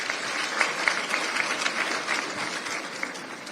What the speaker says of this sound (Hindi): ताली वाली बजा दो दोनों के लिए।